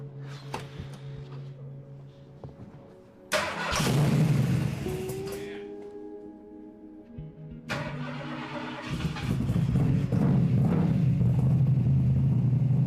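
A junk car's engine cranks and catches twice, settling into a rough, steady idle after each start, then rises in a louder, fuller run toward the end.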